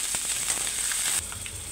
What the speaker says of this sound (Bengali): এই দুইটাকে আগে আমি একটু ভালোভাবে ভেজে নিব